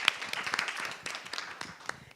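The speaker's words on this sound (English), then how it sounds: "let's give her applause" A small audience at a downtown business alliance meeting gives brief, fairly quiet applause for the Main Street coordinator, a short patter of scattered hand claps that fades out.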